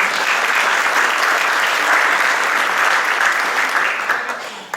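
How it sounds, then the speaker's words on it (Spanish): An audience at an urban development forum in Lima applauds a panelist, dense steady clapping holding for several seconds before tapering off near the end. "Un aplauso."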